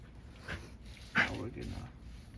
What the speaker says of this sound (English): My dog's over here choking and shit.